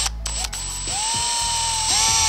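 A power drill whines steadily at high pitch, its tone shifting and dipping as it bites into the metal body of a Ford Ranger, with a brief pause and rising pitch near the end.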